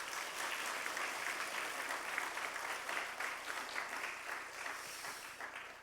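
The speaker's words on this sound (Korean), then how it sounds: "우리 뜨거운 박수로" Warm applause from a church congregation welcoming a guest from Seoul, steady even clapping from many hands, sustained and moderately distant with no voices over it.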